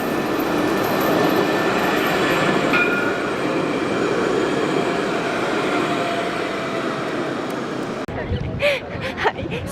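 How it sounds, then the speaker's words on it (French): Rolling rumble of a tram ride in Montpellier, steady wheel and rail noise with faint squeal, running continuously before cutting to a quieter street scene near the end; a voice speaks over it. "Donc là je vais prendre le tram."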